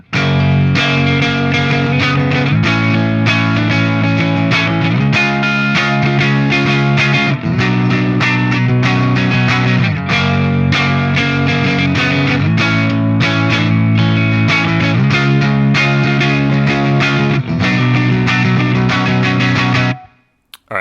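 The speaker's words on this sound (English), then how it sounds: "It is going to be boosted pretty hard. And we have a touch of reverb, touch of chorus." Heavily boosted electric guitar chords from a Mayones Regius 7 with Bare Knuckle Silo pickups, light spring reverb and chorus shimmer, playing steadily and loud for about twenty seconds before stopping.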